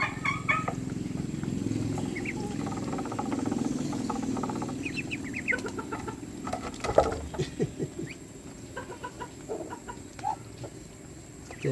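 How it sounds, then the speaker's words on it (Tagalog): Ducklings and other fowl chirp and cluck continuously while being fed, a busy cluster of small peeps and scattered pecking patter close by, with no one talking. "Ito mga sisiw pato na pato."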